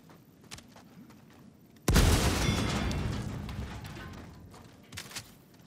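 A grenade goes off in Helldivers 2 with a sudden loud blast that rumbles and decays over a few seconds, set against quieter ambient game noise before and after.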